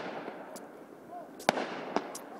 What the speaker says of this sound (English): Ontario Place, more fireworks.